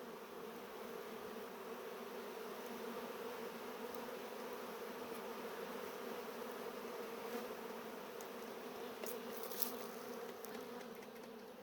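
Honey bees buzz at a hive while carrying pollen, making a steady, dense drone that holds the same level throughout, with no voices.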